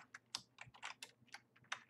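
Quick, light keystrokes on a computer keyboard, a short burst of about a dozen soft clicks in an uneven rhythm, close and quiet with no talking.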